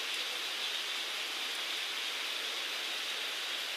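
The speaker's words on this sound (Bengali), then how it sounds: "হঠাৎ করে বহুদিন পর বৃষ্টি হলো তো," Heavy rain falling steadily on a flooded street, a dense unbroken hiss at moderate level with no voices, continuous for the whole stretch.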